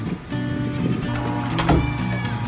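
A goat bleats loudly nearby, a long wavering cry that rises and strains near its end.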